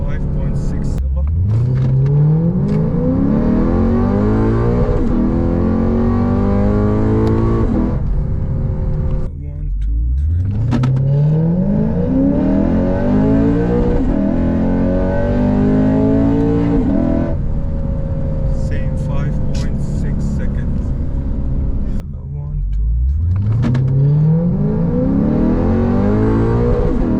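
A Lexus RC F with an Invidia exhaust, in Sport Plus mode with traction control off, accelerates hard from 0 to 100 three times, each run a loud engine roar climbing in pitch through the gears before dropping back.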